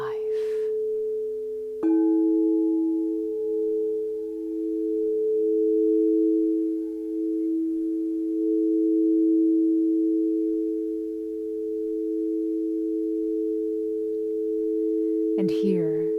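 A clear, steady pure tone for guided meditation starts after a brief opening sound and hums on unchanged for the rest of the clip, smooth and sustained at an even volume.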